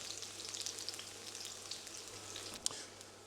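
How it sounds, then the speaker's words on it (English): Garlic and red chilli cooking in a pan for spicy gochujang Korean chicken wings, a soft even sizzle with faint crackles and one brief sharp click, fairly quiet and without speech. "Just cook that off, just to cook out the rawness of the garlic."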